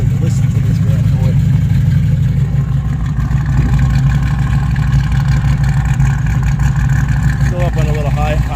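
A 1986 Buick Regal engine runs at a steady high idle, loud and close with a constant low droning rumble, while a person speaks over it.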